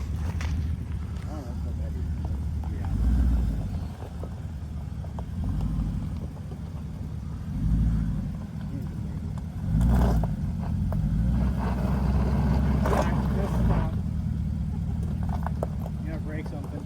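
Porsche Cayenne off-road in low range with center diff lock, engine droning and surging in a few swells as the wheels spin, with people talking throughout.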